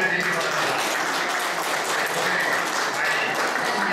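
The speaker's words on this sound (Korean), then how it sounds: "그동안 수고 많이 했다는 의미에서 큰 박수 한번 우리 보내드리기 바랍니다" Audience applause at the opening of a Korean Photographers Association flower photography group members' exhibition, a steady dense wash of clapping that runs continuously at even loudness throughout.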